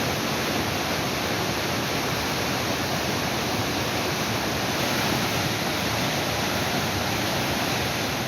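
Mookanamane waterfall in Sakleshpur taluk, Karnataka, swollen in spate after heavy rain, gives a loud, steady roar of rushing water that stays unbroken and even throughout, with no voices.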